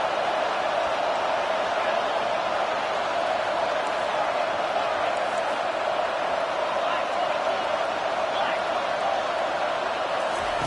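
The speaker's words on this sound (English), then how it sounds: "Here comes this home crowd as the defense tries to get off the field on 3rd down." A home crowd at a TCU college football game roars steadily on a third-down defensive stand, a loud sustained wall of cheering under a play-by-play commentator's voice.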